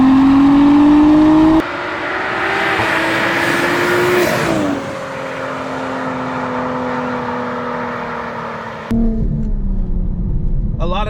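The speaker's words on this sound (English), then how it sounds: "Is this turbo is definitely louder than your stock turbo." Audi B9 S4/S5/SQ5 fitted with an 034Motorsport TTE710 turbo on a Stage 3 tune, engine revving with turbo whine and exhaust roar in loud, close surges broken by abrupt shifts and throttle lifts.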